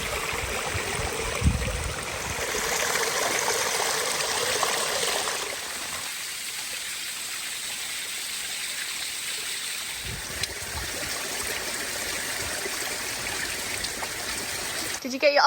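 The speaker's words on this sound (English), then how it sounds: "The river that comes from nowhere." A river on the Isle of Skye flows as a steady broadband rush of running water, continuous and fairly close, shifting slightly in tone partway through.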